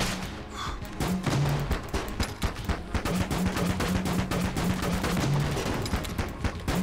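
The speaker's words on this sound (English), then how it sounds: "because I'm firing in the direction of the hole, it's still able to hit the enemies" Rapid, dense bursts of player gunfire in the twin-stick shooter Enter the Gungeon, near and loud, firing continuously across the whole stretch with a looping tone underneath.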